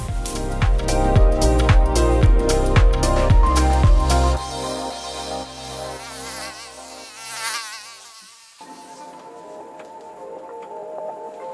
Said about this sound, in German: Jedoch machen die Mücken einem es nicht gerade leicht.